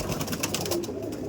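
Brief, low cooing of pigeons kept in a loft, a soft throaty murmur close by with no voices.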